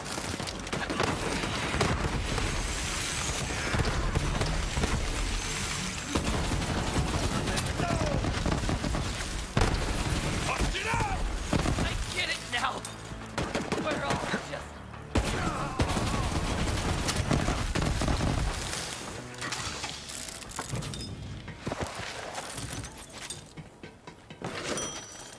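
Rapid bursts of gunfire from a gun in the video game Borderlands 3, loud and dense shots rattling almost continuously with booming impacts and brief lulls between volleys.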